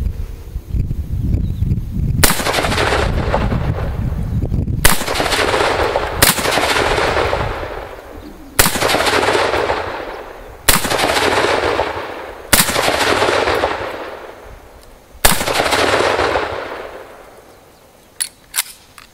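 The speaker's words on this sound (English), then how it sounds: "go ahead and take out these last ones here with the old Garand" An M1 Garand 30-06 semi-automatic rifle fires about seven loud, sharp shots at a range, each spaced a few seconds apart and ringing out with a decaying tail, with a couple of faint clicks near the end.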